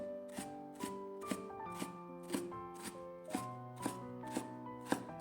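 A knife dices peeled carrot into tiny cubes on a board, tapping in a steady, evenly spaced rhythm of about two cuts a second, close and fairly quiet under soft background music.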